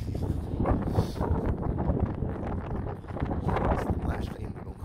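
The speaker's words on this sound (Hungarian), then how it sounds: "elfúj a szél" Strong wind roars continuously across the microphone outdoors, a dense steady rumble with surging gusts, while women chat faintly underneath.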